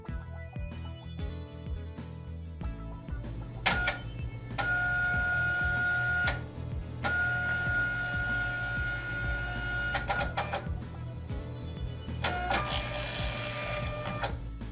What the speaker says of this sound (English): Wait for the printer to restart and print a configuration label.